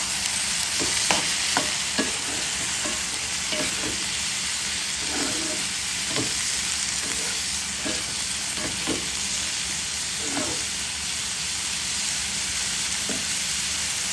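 Long beans and onion stir-frying in a pan, with a steady loud sizzle and hiss throughout and scattered scrapes and clicks of stirring, close up, with no voices.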